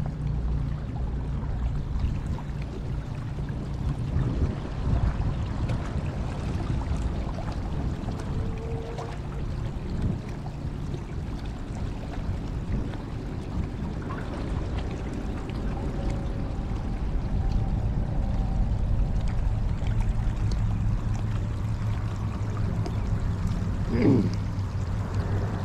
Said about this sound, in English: I guess this is an urban waterfall.